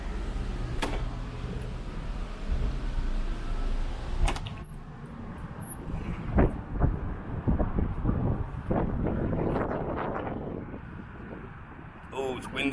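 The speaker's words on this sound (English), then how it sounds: "Oh, it's windy out here." Gusty wind buffets the microphone outdoors at Plymouth Meeting Mall in a steady low rumble, with a person talking intermittently and small clinks and taps throughout.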